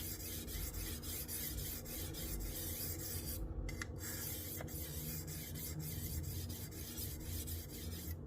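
A knife blade is drawn across a sharpening stone on a TS Prof Kadet Pro guided sharpener, giving rhythmic rasping strokes at a steady pace, close and fairly quiet, with a brief pause partway through.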